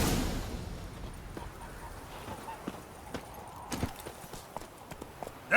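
The hooves of Roach, Geralt's horse in The Witcher 3, clip-clop in a steady, moderately close walking rhythm over a low background ambience.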